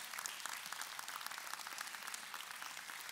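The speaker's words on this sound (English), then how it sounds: "Would you give the Lord a clap offering?" A church congregation claps together in sustained, dense applause for the full stretch, an even wash of many hands with no speech over it.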